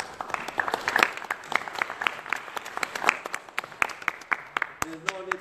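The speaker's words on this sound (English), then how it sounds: "There's no need for clapping" A conference audience at a youth event in Khartoum claps steadily, many overlapping hand claps forming dense, moderately loud applause that tapers near the end as a voice begins.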